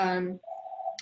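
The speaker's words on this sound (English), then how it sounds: "I'm sorry for the phone ringing in the background." A telephone in a rural shelter office rings in the background, heard as a steady electronic tone that sets in right after a brief stretch of speech and holds for about half a second.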